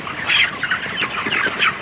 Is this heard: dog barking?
no